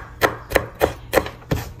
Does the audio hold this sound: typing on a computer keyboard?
no